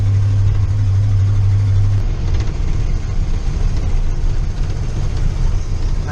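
The big tractor's engine runs loudly and close by in a steady, rough, deep rumble that goes on throughout, with a slight change in tone partway through.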